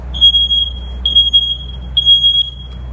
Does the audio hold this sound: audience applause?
no